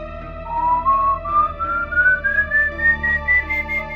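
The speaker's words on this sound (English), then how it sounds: "El Silbón appears on the llanos at night, whistling his song." A lone, clear whistled melody rising slowly in pitch over a low steady drone, sustained and eerie, attributed to El Silbón, the legendary whistling ghost of the Venezuelan llanos at night.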